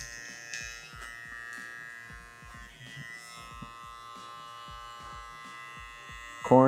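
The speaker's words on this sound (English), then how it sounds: "Just opening the clipper up." Electric hair clipper running during a taper haircut, a steady buzzing drone with rhythmic low thumps and clicks throughout, fairly close and moderately loud, ending in a sharper burst.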